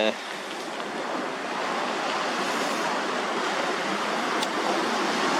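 Ocean waves wash onto a beach in a steady, broad surging roar that builds slightly after the first second and carries on without a break, with no voices.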